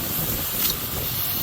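An antique Buckner 3-inch Model 72 wedge and impact giant irrigator from around 1939–1950 sprays water outdoors in strong wind, giving a continuous broad hiss with a brief swell midway.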